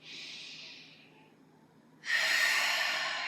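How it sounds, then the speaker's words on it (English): Deep breathing during a vinyasa flow yoga session: a long soft exhale that fades, a pause, then a strong rushing breath, close and steady with no words spoken. "We're still breathing."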